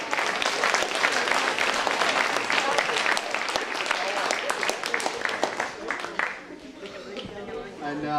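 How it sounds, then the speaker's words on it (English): An audience at a high school International Day event applauds a panel with a loud, dense burst of clapping and some voices mixed in, then it thins out as chatter and talking take over. "Give them a round of applause"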